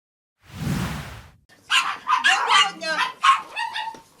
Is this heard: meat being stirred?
no